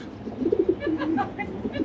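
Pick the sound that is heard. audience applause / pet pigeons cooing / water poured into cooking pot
pet pigeons cooing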